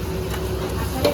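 Food fries in a pan in a family home kitchen, a steady close hiss and crackle of hot oil with faint stirring, running without pause for a brief moment.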